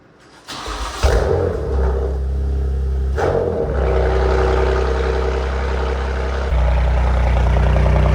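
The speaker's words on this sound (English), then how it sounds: "now we're gonna do a first cold start with the new exhaust" A BMW M4 fitted with a new Grail exhaust cold starts with a sharp crank and loud bark, then settles into a deep, loud, steady idle that rises in pitch near the end.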